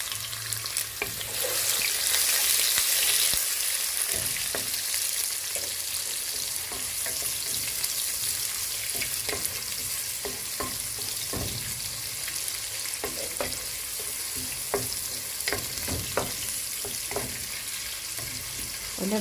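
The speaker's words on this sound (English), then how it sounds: "you have to cook the onions until they're golden brown" Onions fry in a pan until golden brown for pilau, a dense, steady sizzle close up, punctuated by frequent scraping and clacking stirs that grow busier toward the end, with no talk.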